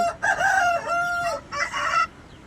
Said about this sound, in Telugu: ఈ కోడి రసంగి అండి